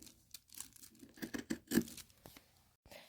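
Scissors cut through fabric around curves in close, quiet snips and crinkly tearing scrapes, coming in short irregular bursts with brief pauses between them.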